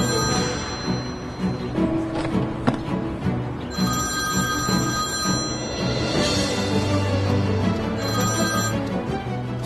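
A telephone rings in bursts of repeated electronic bell tones, fairly loud and steady against a busy background with no talk over it.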